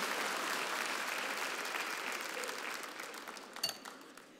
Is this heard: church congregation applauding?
yes